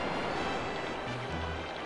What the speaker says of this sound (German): Ich höre hier schon das Meeresrauschen